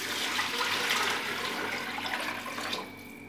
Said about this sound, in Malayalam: ഇനി വെള്ളം ഇടിച്ച് കൊടുത്ത്